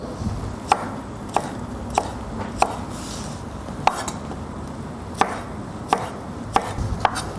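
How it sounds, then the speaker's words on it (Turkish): Sharp knife chops through garlic on a cutting board, about ten separate cuts at an uneven, unhurried pace, close up and alone. "sarımsaklarımızı da doğrayıp hazırlayalım"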